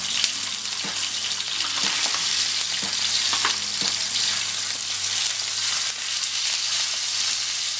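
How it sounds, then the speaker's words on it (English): Steaks frying in a pan, a loud steady sizzle close up with occasional soft clicks and taps of the pan, no talk. "With my steaks, I'm just going to have a look and turn them over and turn it down a bit."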